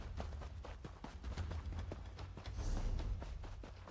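Horse galloping in the video game ESO: Elsweyr, a steady rapid run of hoof clip-clops over a low rumbling game soundscape, fairly close and continuous with no talk.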